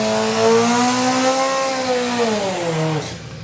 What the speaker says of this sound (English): you've got the Mitsubishi four-cylinder powered Suzuki Hayabusa